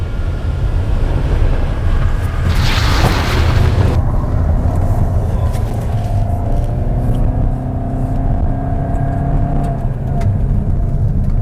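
A Toyota Yaris Cross GR hybrid compact SUV pulls away hard after a U-turn, its engine and road noise swelling loudly and close in one sustained surge with no one talking.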